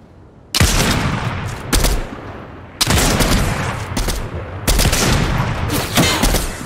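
Loud bursts of gunfire in a shooter video game, three sharp volleys with rapid shots, close and punchy, separated by short quieter gaps.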